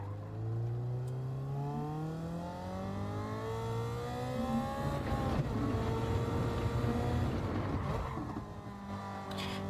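A race car engine in Gran Turismo 7 revs through rising gear pulls, each climb in pitch followed by a shift, loud and close with no talking.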